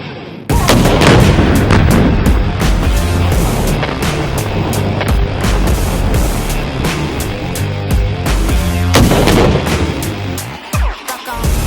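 A Czech RPG-75 disposable grenade launcher is fired in a loud, sharp blast that rings and rumbles on for several seconds, followed by further booms and clatter, with another heavy crack near the end.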